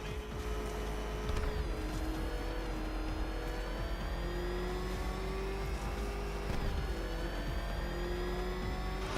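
The Batmobile's engine in Batman: Arkham Knight roars steadily at high revs, its pitch climbing gradually with a couple of gear-shift surges, loud and close with no talk.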